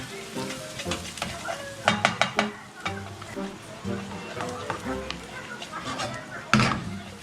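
Butter sizzles and crackles steadily in a hot pan, with sharp clicks and scrapes of stirring scattered over the frying hiss, close and fairly loud, with no talk.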